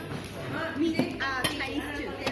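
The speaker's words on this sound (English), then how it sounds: "Squeeze the balls of lime into your soup and stir." A spoon clinks against a bowl while lime is stirred into Thai soup, giving a few light chinks under background voices and kitchen noise.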